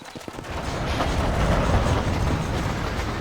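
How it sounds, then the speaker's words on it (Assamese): A train rolls past steadily and loudly in the Western video game Red Dead Redemption, its wheels clattering in a continuous dense rumble. "ট্ৰেইনখন যোৱালৈকে ৰখিব লাগিব"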